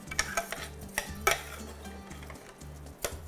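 Rice being stirred in hot oil with salt and garlic, giving scattered scraping clicks and spoon taps over a soft, low sizzle and a faint steady hum, with no talking.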